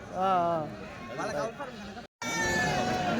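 Goats bleating at a weekly Tuesday sheep-and-goat market in Kadiri, a few wavering cries close by over a crowd of people talking.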